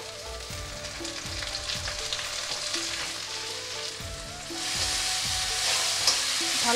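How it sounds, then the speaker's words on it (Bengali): A ginger-garlic-onion paste with green chillies fries and sizzles steadily in a pan, with repeated scraping stirs; the sizzle swells louder toward the end. "ভালো করে মশলাগুলো ভেজে নিচ্ছি।"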